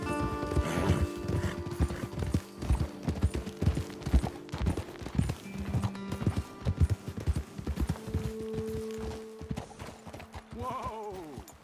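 Horses ridden in Red Dead Redemption 2, with a steady, close clip-clop of hooves and a few mechanical tack clinks, plus a brief whinny near the end.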